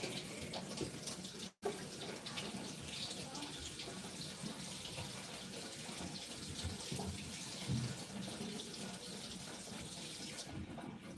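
Warm water running steadily from a kitchen tap to measure for donut dough, a continuous close splashing gush with one brief cut-out early on, no voices.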